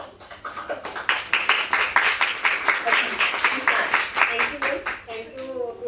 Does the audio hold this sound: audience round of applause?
yes